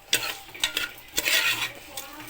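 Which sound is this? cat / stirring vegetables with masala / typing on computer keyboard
stirring vegetables with masala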